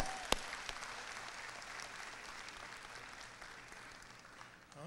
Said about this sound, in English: Let's give another round of applause for all the presenters this morning.